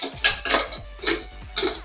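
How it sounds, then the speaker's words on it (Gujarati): A pressure cooker lid clanks onto a metal cooker on a kitchen gas stove, giving four sharp metallic clatters spaced about half a second apart, close and fairly loud, with no talking. "પછી ગેસ ફૂલ કરીને આપણે કુકરનું ઢક્કણ દઈ દઈશું."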